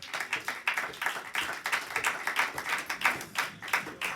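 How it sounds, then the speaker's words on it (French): Church congregation clapping in the service, a sparse, rhythmic patter of individual claps at moderate level, uneven and pulsing rather than a dense roar, with no speech. "Est-ce qu'on peut applaudir le Seigneur pour ça?"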